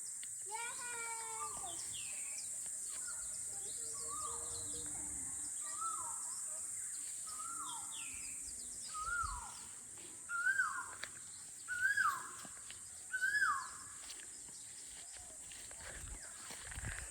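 A bird calls outdoors in a repeated series of short, bright chirps spaced about a second or two apart, faint and somewhat distant over a steady hiss of rain or insects, with a few louder bumps nearby.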